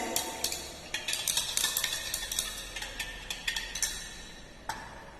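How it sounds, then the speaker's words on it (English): A utensil clinks and scrapes repeatedly against a glass vessel while a chemical solution is stirred to dissolve particles in a school chemistry practical, a quick irregular tapping rhythm heard up close. "You have to stir it well."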